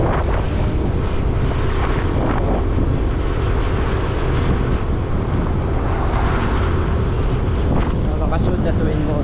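A twin-motor boat on the way to Palar in Jolo, Sulu, its engines droning in a loud, constant roar with wind buffeting the microphone.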